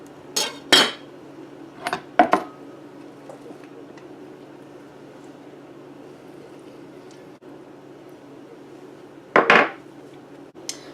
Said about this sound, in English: Cut my lime in half.